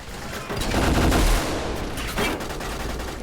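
In Battlestar Galactica, a big gun fires in heavy, booming bursts over a thick roar of battle, loud and sustained throughout with no talk.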